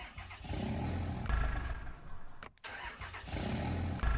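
A truck engine in a video game cranks and starts up, its loud mechanical rumble running through most of the moment with a brief drop partway before the engine noise returns, heard alone without talk.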